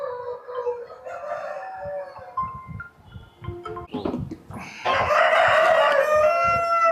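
A Nellore fighting rooster, a full-white Kagar breed bird with black legs, crows loudly and close by, its drawn-out call rising over a farmyard background of clucking fowl.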